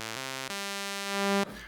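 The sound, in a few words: Roland Promars synthesizer sound with high-pass filter cutoff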